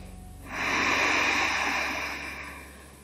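One slow, long breath, loud and close to the microphone, taken while holding a yoga stretch, with an airy rush that swells and then gradually fades.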